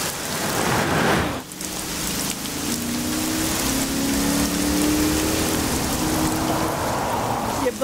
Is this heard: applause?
no